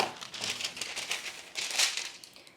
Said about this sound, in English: Let's grab our baking dish and line it with a sheet of parchment paper.